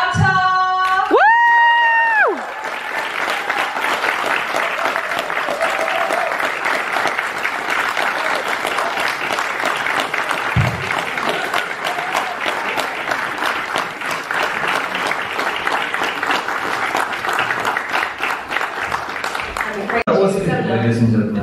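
A cinema audience at a UK screening for a band bursts into loud, sustained applause mixed with cheers and whoops. It opens with a brief rising vocal whoop, and the clapping continues steadily for about twenty seconds.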